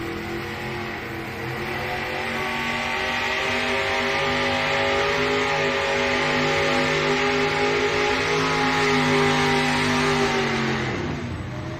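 A 6,000-pound light modified pulling tractor revs its engine at a nighttime test run, a loud sustained mid-pitched roar with strong harmonic drone that holds steady and drops off sharply at the end.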